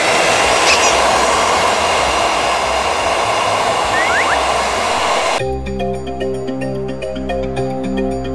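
A hair dryer blows up close to reseal a plastic snack wrapper, giving a loud, steady, hissing roar for about five seconds before it cuts abruptly to music.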